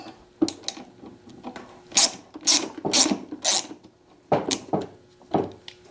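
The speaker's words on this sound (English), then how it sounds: "So I'm going to take these 4 Allen bolts out." Ratchet wrench clicking as Allen bolts are loosened from the gauge cluster of a 1985 Honda Shadow motorcycle, several short bursts of close, crisp ratcheting with brief pauses between.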